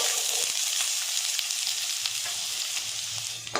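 Onions frying in a pan with mustard seeds and cumin give a steady, dense sizzle that runs unbroken throughout, with faint stirring ticks beneath it and no voices.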